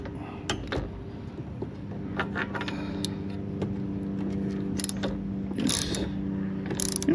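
A part is tightened back onto a Kawasaki FB460V carburetor with a hand tool, close ratcheting clicks and small metallic taps in an irregular rhythm over a low steady hum.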